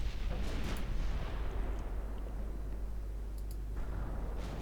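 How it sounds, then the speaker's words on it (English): Secondary guns on a warship fire on a convoy in the naval video game Ultimate Admiral Dreadnoughts: a continuous deep rumble of distant booms, with a few sharper cracks standing out. "make those secondary guns work on the convoy"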